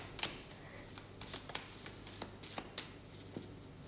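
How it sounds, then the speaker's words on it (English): Playing cards flutter, slap and riffle in a series of soft, quick bursts, close and fairly quiet, with no talking. "Cards are falling all over."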